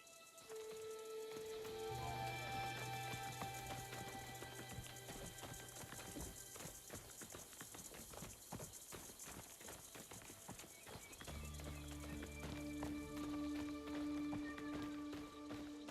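Horse hooves clip-clop steadily in Assassin's Creed Shadows, a continuous run of hoofbeats with a brief whinny, set against a game music score that stays loud throughout.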